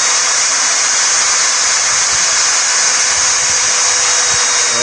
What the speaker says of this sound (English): we're drilling the pieces of some steel